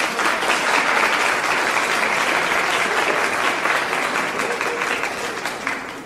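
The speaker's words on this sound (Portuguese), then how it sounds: "Eu gostaria que vocês batessem uma salva de palmas para a Cláudia." A seminar audience at a national tropeirismo gathering gives a sustained round of applause for a woman named Cláudia, dense and steady clapping filling the room for several seconds before tapering slightly.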